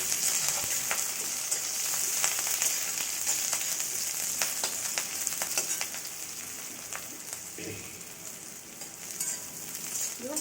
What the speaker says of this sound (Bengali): খুব বেশি তেল দিয়ে ভাজবো না অল্প তেল দিয়ে ভাজবো এই যে পেঁয়াজ লঙ্কা আর কালো জিরেটা দিয়ে দিলাম